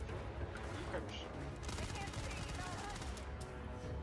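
Rapid bursts of gunfire from a video game showcase trailer crackle under a steady roar of background noise, with people talking over the shooting.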